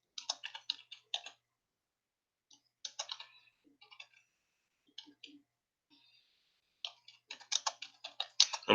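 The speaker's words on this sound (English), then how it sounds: "I'm typing right now, guys, real quick." Bursts of quick clicky keystrokes on a computer keyboard, close up, broken by short pauses, with a flurry of faster typing at the end.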